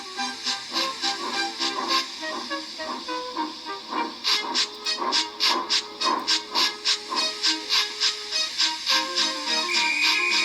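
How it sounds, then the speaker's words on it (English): A steam locomotive blowing off steam before backing onto its train chuffs in a steady, quickening rhythm with hissing bursts, moderately loud, and a brief high whistle-like tone near the end. "with much noise and blowing of steam, got ready to back onto the train"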